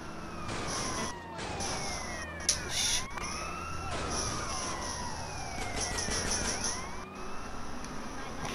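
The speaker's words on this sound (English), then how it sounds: "Looks like this is the ambulance." An ambulance siren in GTA San Andreas wails in rising and falling sweeps over a steady game background, with sharp bangs and clatter breaking in around the midpoint.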